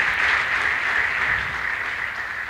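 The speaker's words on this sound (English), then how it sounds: "Can we please clap and welcome them?" A church congregation claps to welcome elders and department leaders, dense sustained applause from a large crowd, loud and even throughout.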